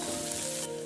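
Sliced onion sizzles in hot oil alongside cumin seeds in a pan, a continuous close hiss that dips slightly near the end, with no talking.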